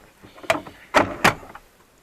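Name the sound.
Land Rover Discovery 3 driver's door opening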